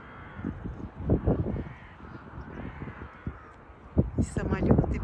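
Crows caw repeatedly outdoors on a hillside in Belgrade, the harsh calls rising loud near the end over traffic and wind noise while a person talks throughout.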